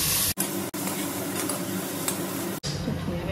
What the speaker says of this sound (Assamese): এতিয়া খুন্দি থোৱা আদা, ৰহুন আৰু পিঁয়াজখিনি দি দিছোঁ, সেইখিনি অলপ ভাজি ল'ম।